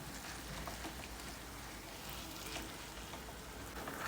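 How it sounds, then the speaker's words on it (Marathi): Makhandi halva being mixed in a pan with cardamom and nutmeg powder and fried dry fruits, a faint continuous sizzle with soft stirring scrapes and a small clink at the end. "आता हे छान मिक्स करून घ्यायचं आहे."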